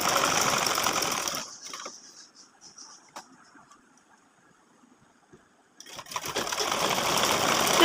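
A sewing machine stitches the side seam of a small girl's salwar kameez, whirring loudly and close in two bursts at the start and end, with a near-silent pause between them.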